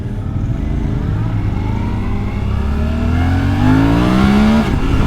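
A Suzuki V-Strom 800DE motorcycle engine revs hard, its pitch climbing quickly through rising harmonics in a loud, continuous run that dips briefly near the end, with no voices.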